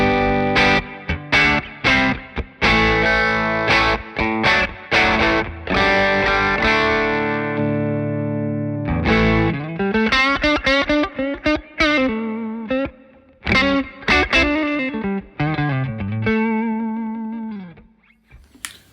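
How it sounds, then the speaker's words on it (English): Electric guitar plays through an amplifier with a GFI System Specular Reverb in the effects loop, chords and single-note lines ringing out with lush reverb tails and some distortion, with no other sound. "let me give you the sound of the amplifier, running some GFI System Specular Reverb 2 in the loop"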